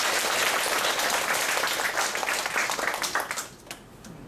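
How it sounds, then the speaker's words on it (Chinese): A lecture audience welcomes Professor Yü Chün-fang with warm applause at a Buddhist talk: dense, full clapping from many hands that thins and fades out over the last second. "那么最后我们是不是再以热烈掌声来欢迎余金芳余教授"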